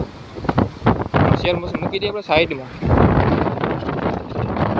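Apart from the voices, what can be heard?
wind blowing on a farm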